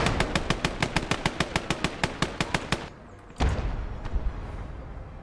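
A machine gun in the video game Motherland fires a rapid, evenly spaced burst of about two dozen sharp rounds, then falls silent before a single heavy thump and a lingering rumble.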